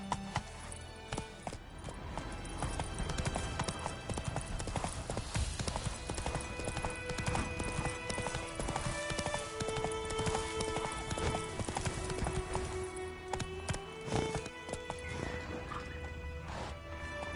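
A horse's hooves clip-clop in a steady riding rhythm in the video game The Witcher 3, close and continuous over game music and ambience.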